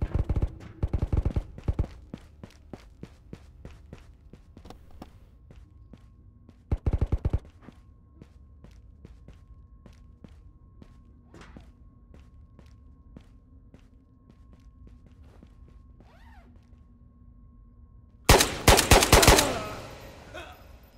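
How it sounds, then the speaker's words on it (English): Sporadic bursts of rapid gunfire crackle at a distance, separated by quieter stretches with faint clicks, ending in a loud close volley. "There's a lot of gunfire happening over here."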